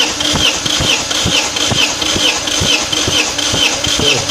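A car engine cranks over on the starter during a cylinder compression test, with the throttle held wide open. The starter whirs steadily, and regular rhythmic compression pulses sound close and loud for the whole stretch.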